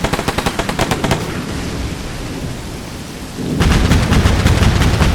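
Mortar fire in the video game Combat Mission Black Sea, with a Russian Federation raid in progress: loud, rapid rhythmic blasts, then a rumbling lull, then another dense volley of booming impacts.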